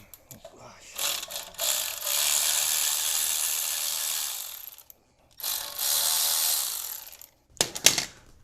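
Ratchet spinning off a 12 mm bolt on a 1996-2002 third-generation Toyota 4Runner during upper ball joint replacement, with a long continuous clicking run, a pause, another sustained run and a short final burst, close and loud.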